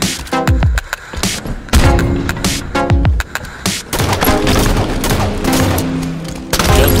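Shotgun blasts in Halo 5 gameplay from a zombie-survival mode, loud repeated booming shots in an irregular rhythm over a continuous bed of game noise and other gunfire.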